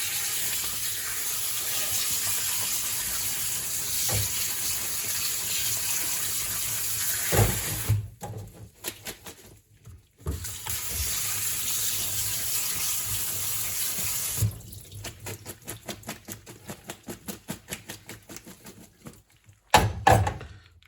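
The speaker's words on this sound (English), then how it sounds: "Basically just give them a good rinse." Kitchen tap water runs steadily as vegetables are rinsed under it, the flow interrupted by brief pauses and splashes, then returns in a choppier stream with a few thunks near the end; close and fairly loud, no talk.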